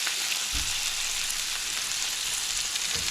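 Chopped vegetables sizzle steadily in a frying pan for a pork chop and pasta dish, a continuous bright crackle with a couple of soft low knocks from stirring, no voices.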